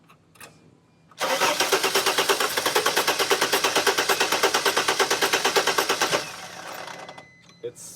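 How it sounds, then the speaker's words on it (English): A T1N Sprinter engine cranks on its starter while trying to fire: a loud, close, rapid rhythmic churning that runs steadily for about five seconds, then cuts off abruptly into quieter workshop noise. "It's spinning pretty fast, and something's getting stuck there after you disengage the starter."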